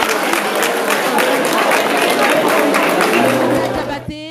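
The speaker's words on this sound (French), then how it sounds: "Je vous demande donc de les applaudir" Crowd applause at a French-language awards ceremony as trophies are presented, a dense, steady clapping that fills the room and stays loud before cutting off near the end.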